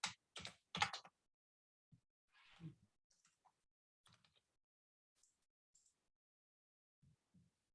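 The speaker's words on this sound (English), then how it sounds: "I'm typing it here." Computer keystrokes: a quick burst of three loud taps, then sparse, softer scattered clicks and taps with long quiet gaps, close and faint overall.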